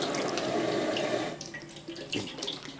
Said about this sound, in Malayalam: അപ്പോൾ ഈ എണ്ണ അങ്ങോട്ട് പൊട്ടിച്ചങ്ങോട്ട് ഒഴിക്കും